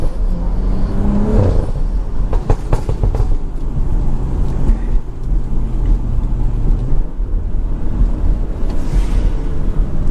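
A loud Stage 2+ tuned BMW drives through a quiet neighbourhood at night, giving a deep rumbling drone heard from inside the car, with a few sharp crackling pops from the exhaust near the start.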